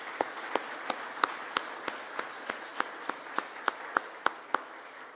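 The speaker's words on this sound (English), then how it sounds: "Let's give her a round of applause." Slow, evenly spaced hand claps at an arts awards ceremony, about sixteen sharp claps in a steady rhythm against a quiet room.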